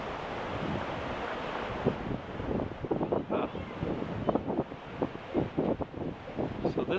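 Water rushing through Elora Gorge, the flow that once powered flour mills and sawmills, makes a steady roar with gusts of wind noise, and footsteps or knocks sound close by throughout.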